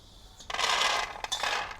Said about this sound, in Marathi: शेंगदाणे पण छानपैकी खरपूस भाजून झालेत ते पण आता काढून घेऊया